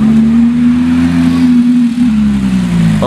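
A loud straight-piped Ferrari 458 engine holds a steady, droning high rev, roaring continuously close by with a slight dip partway through.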